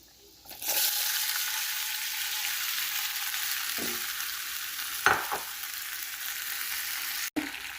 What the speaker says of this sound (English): So we have to add everything in the oil, and it's time to add this potato.